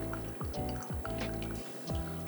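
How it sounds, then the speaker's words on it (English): A Coulée Swirl automated pour-over coffee machine dispenses water in soft, repeated drips and trickles as the brewing cycle nears its end. "So it's almost finished dispensing water."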